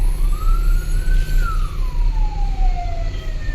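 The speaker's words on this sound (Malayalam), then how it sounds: "ആംബുലൻസ് വരുന്നുണ്ട് കേട്ടോ." An ambulance siren wails loudly on a congested road in Vadakara, Kerala, its tone rising and then falling as it passes close by over a low rumble of traffic.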